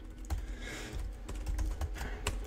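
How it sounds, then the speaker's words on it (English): Rapid computer keyboard typing, a dense run of close, fairly loud key clicks with a few sharper strikes, heard alone with no talking. "Sheesh, typing is bad."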